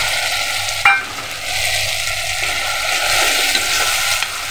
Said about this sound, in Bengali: এবার এই হাফ ভাজা টমেটো পেঁয়াজের মধ্যে আমি গুলে রাখা মশলাটা দিয়ে দিচ্ছি।